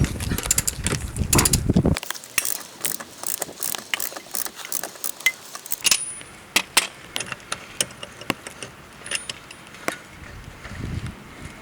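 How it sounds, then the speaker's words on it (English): A ratchet wrench loosens the main axle nut on a Trabant 601 during a front-axle rebuild, giving a burst of rapid clicking followed by slower, spaced ratchet clicks and metallic ticks up close. "For that we start unscrewing the main axle nut."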